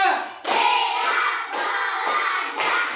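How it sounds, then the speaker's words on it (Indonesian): Rhythmic hand clapping by a class of children, several sharp bursts of many hands clapping together at a steady pace, loud and close, in a classroom lesson. "tepuk 2, tepuk 3, tepuk 4, tepuk 5."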